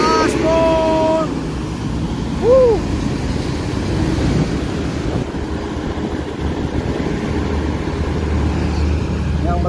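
Budiman bus engine droning under steady traffic noise while overtaking on the road, with wind buffeting, a brief horn-like tone early on and a voice speaking over it.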